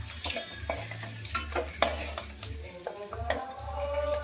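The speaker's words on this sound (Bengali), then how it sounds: "এই যে আমার ডিমগুলো ভাজা হয়ে গেল, পাঁচ ফোড়নটা দিয়ে দিলাম, ভাজা হোক।" Eggs fry in hot oil in a pan with panch phoron spices, a quiet crackling sizzle broken by scattered stirring scrapes and clinks.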